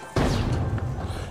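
A grenade explodes in the video game The Finals with a sudden heavy boom and a rumbling decay that fades over about a second.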